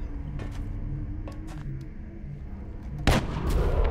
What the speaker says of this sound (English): I think this shot is worth it